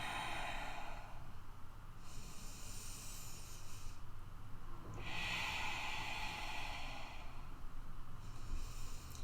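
Slow, steady breathing during a yoga pose: long airy hisses of inhale and exhale alternate in a calm rhythm, heard close up over a constant low background noise.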